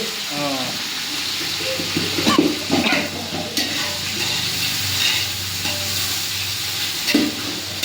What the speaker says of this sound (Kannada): ಇಷ್ಟು ಮಾಡಿ ಎಲ್ಲ ಹಾಕಿ ಫುಲ್ ಫ್ರೈ ಮಾಡಿ, ಚೆನ್ನಾಗಿ ಫ್ರೈ ಮಾಡಿ